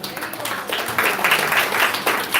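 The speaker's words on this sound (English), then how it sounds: "So a huge round of applause for her." A congregation at a Vaishnava devotional gathering claps in a brief, lively burst of applause for a member, many hands together at close range, growing slightly louder midway.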